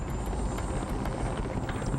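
A helicopter flying over Freetown, Sierra Leone, with a loud, steady rotor thrum and engine roar filling the whole moment, close and continuous with no voices.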